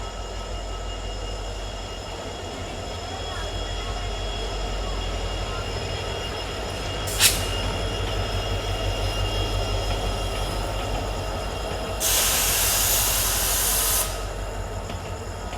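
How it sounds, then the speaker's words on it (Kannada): Yesvantpur to Sindhanur train pulling in at Kadur railway station at night, a steady low rumble and hiss of the rolling train with a sharp clank midway and a loud burst of hissing near the end. "ಯಶವಂತಪುರದಿಂದ ಸಿಂಧನೂರ್ಗೆ ಹೋಗುವ ಗಾಡಿ train number one six five four five platform number ಟೂಗೆ arrive ಆಗ್ತಿದೆ"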